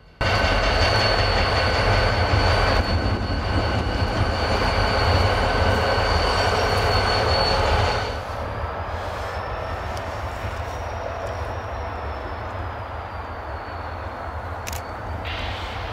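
Freight trains switching cars in a rail yard beside a boat ramp in Oklahoma City, a steady loud rumble with a sustained high whine and screech that drops off midway to a quieter continuous hum.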